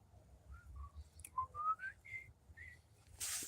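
A person whistles a faint, wandering tune of several separate rising and falling notes in a quiet cemetery, then a burst of breathy noise ends it.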